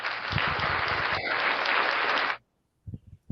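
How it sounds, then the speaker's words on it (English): A studio crew's round of applause on a sports talk show, a dense burst of clapping that holds steady for about two and a half seconds, cuts off sharply, then a few faint scattered sounds. "we deserve a round of applause"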